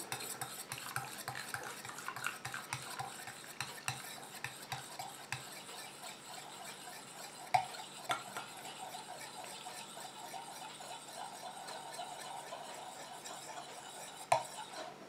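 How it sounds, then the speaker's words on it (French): A spoon or whisk stirring an oil and water emulsion in a bowl for a homemade body cream, with continuous soft scraping and swishing, rhythmic and close but quiet, plus a few sharper clinks against the bowl. "Et je continue à mélanger comme ça jusqu'à ce que mon émulsion épaississe"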